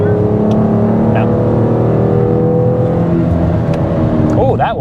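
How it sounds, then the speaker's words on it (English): A Dodge Charger fitted with a universal valved exhaust revs steadily up close, its deep droning note holding loud throughout with a few sharp overrun crackles near the end; a voice speaks over it. "Getting a little bit of overrun now. A little bit of pops and cracks."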